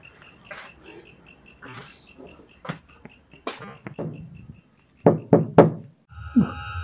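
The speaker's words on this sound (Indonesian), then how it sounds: "Tumben-tumbenan malam gini siapa yang ngetok-ketok pintu?" Knocking on a door at night: several knocks spaced out over crickets and insect chirps in the background, followed by a louder cluster of close raps near the end.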